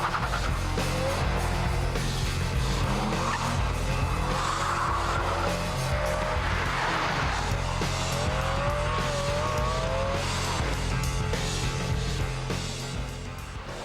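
Ferrari 612 Scaglietti with traction control switched off, tyres squealing loudly and continuously over a roaring engine, the pitch of the screech wavering through repeated slides with no talk.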